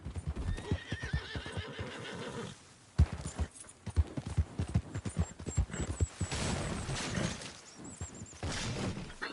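In a video game, a horse's hooves gallop in a fast, loud, rhythmic clatter, with whinnies and snorts mixed in and a brief crash partway through.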